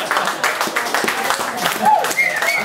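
Stand-up comedy audience cheering and clapping in a German cultural centre, a dense sustained wash of applause with whoops rising over it throughout.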